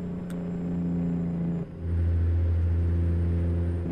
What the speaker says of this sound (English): Noise that's changing the stage of the jake brake.